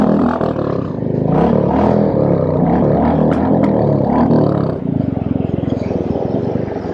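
A Royal Enfield Classic 350 custom motorcycle engine warms up with a loud, steady, thumping idle and low-pitched exhaust rumble that holds throughout, with a slight change in tone near the end.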